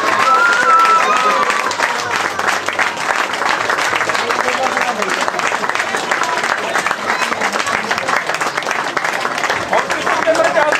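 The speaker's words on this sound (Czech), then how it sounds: "Velký potlesk pro vítězky!" Loud, continuous crowd applause greets the winners at an outdoor triathlon award ceremony in Roupov, with dense clapping and some crowd noise and voices mixed in throughout.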